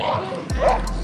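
Small dogs meeting on a walk yip and bark sharply at each other in a few close, loud bursts, with a short whimper and a person talking nearby.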